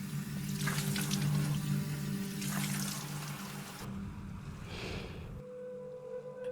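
Water splashes and pours continuously as a man washes his face with river water, loud and close at first, then thinning to lighter trickling before stopping.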